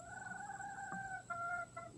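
Hens cluck and call in drawn-out, wavering notes nearby at a rural campsite resort in Baras, Rizal, Philippines, with a few shorter clucks toward the end over quiet background hiss.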